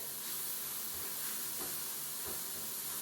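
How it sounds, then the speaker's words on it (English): Mushrooms and onions sautéing in a pan for a bacon and caramelized onion quiche, giving a steady, even hiss that runs the whole time with no voices over it. "making sure that they're all sauteing. You just want to give them a little color"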